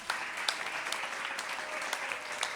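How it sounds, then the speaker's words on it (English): Steady applause from an audience at an evening storytelling and arts celebration in the Bronx, dense clapping sustained evenly throughout with a few louder individual claps standing out. "I'd like another round of applause for Papaleto,"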